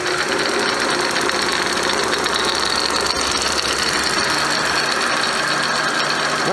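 A century-old Seneca Falls Star metal lathe running slowly in back gears, giving off a loud continuous mechanical whir and hum with a steady rattle and a couple of faint clicks, close by and without talk.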